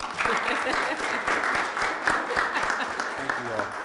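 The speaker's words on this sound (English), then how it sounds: "And one more round of applause, everybody." Sustained audience applause at a town council meeting honoring Christmas parade winners: dense, steady clapping from a full room that fills nearly four seconds without letting up.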